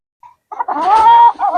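A backyard gamefowl broodcock gives a short, loud, close call, a brief note followed by a rising drawn-out crow-like cluck that trails off.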